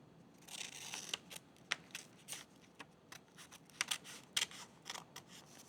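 Scissors snip through paper in a quiet run of short, irregular cuts, some sharper than others, with no talk.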